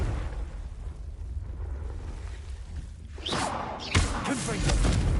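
A Confringo fire spell from Hogwarts Legacy goes off midway as a rushing whoosh into a booming blast, preceded by quiet ambience, with a voice speaking around it.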